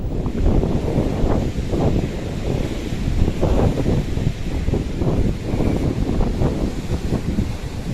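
Rough monsoon sea at Malvan on the Konkan coast churns loudly with strong wind, a continuous roar of surf and gusts buffeting the microphone, with no voices.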